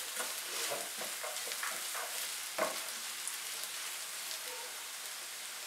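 Chopped carrots and onions fry in a pan, a continuous hissing sizzle with light stirring and one brief clatter partway through.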